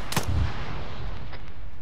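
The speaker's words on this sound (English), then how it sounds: "Just keep the suppressing fire going" Suppressing gunfire during a night firefight in the military shooter Arma 3, a single sharp, heavy shot at the start followed by a booming low tail and lingering rumble, loud and close, no voices.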